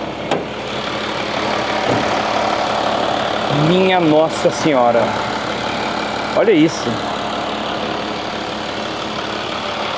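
A Chevrolet Silverado's MWM six-cylinder diesel idles steadily with the hood open, a constant low engine drone running throughout while people talk close by.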